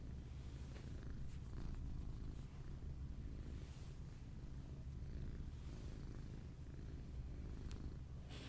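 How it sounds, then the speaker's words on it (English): A cat purrs steadily and softly up close, a continuous low rumbling rhythm with no talking. "Well, listen to that purr."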